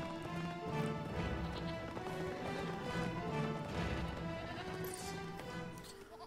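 Steady hoof clip-clops of a small pony in LEGO The Lord of the Rings plod along in a loop, layered over a continuous orchestral music bed.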